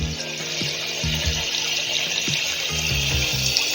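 Water splashes and sloshes nearby in an outdoor village setting, a continuous gushing wash with a few heavier splashes.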